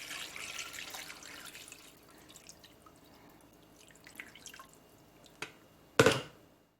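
Water runs from a tap into a pot of pork bone soup with onion and ginger, a soft steady trickle of drips and splashes, faint and close, ending in a brief louder clatter.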